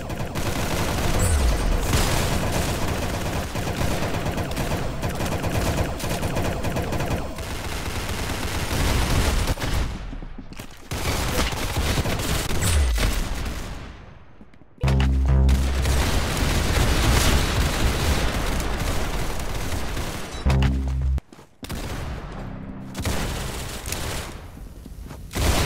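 Rapid gunfire and booms from a shooting video game, dense sustained bursts close and loud, broken by brief gaps.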